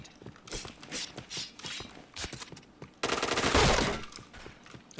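Rapid gunfire in a shooter video game comes as clustered bursts of sharp shots, closing in a loud, dense volley near the end, with no talk over it.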